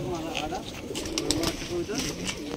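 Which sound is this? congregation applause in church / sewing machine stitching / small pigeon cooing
small pigeon cooing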